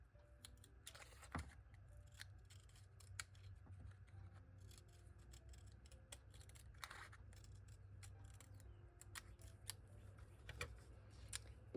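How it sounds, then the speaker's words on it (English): Antique scissors trim paper in a quiet room, making faint, close snips and soft paper rustles at an irregular pace. "I'm going to trim it with my antique scissors."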